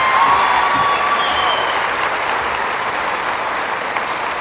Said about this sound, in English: They're cheering for you tonight, Mandy Jeffries, Miss Austin.